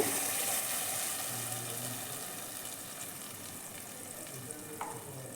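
A ground paste of onion and garlic frying in a pan for a village-style greens bassaru, a continuous hiss and sizzle up close, with soft scraping of a spoon and a brief clink near the end.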